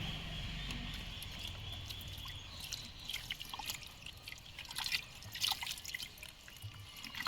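Water trickles and drips as it soaks a compressed coco peat block in a container, a soft, steady pouring that turns into scattered drips and splashes.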